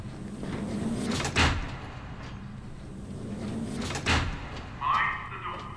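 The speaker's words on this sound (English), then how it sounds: "Mind the doors. Please stand clear of the doors." Train sliding doors in the video game ZombiU thump shut twice, each a short loud clunk over steady rumbling ambience, with a brief chime-like tone near the end.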